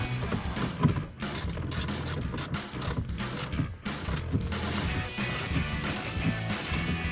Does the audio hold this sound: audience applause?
no